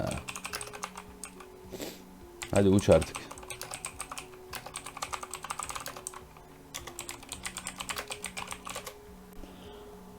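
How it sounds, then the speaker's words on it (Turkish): Rapid clicking of computer keyboard keys in bursts, close and fairly quiet, with a brief spoken line partway through. "Klavye sesi için özür dilerim arkadaşlar."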